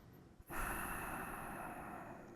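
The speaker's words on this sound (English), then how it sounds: "when we make the inhales nice and slow and deep and the exhales longer" A slow, deep breath taken during a breathing exercise, one long drawn-out exhale rushing steadily after a brief catch, close and fairly loud with no talking.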